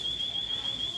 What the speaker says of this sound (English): I didn't make her set the alarm off.